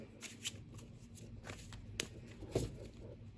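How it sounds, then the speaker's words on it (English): Soft, papery riffling of oracle cards being shuffled in a quiet room, a few brief bursts with small taps and rustles between them. "Shuffle one more time."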